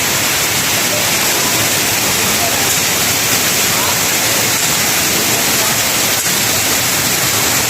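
Loud, continuous rushing water roars without a break, a dense steady wash of dirty floodwater from nonstop rain close at hand.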